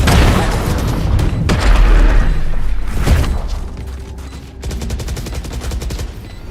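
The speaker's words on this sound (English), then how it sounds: "Grenade." A grenade blast in a tactical shooter round after the spike is planted, a loud booming burst with gunfire crackle and rumble, followed by lighter rapid mechanical clatter and a sustained low hum.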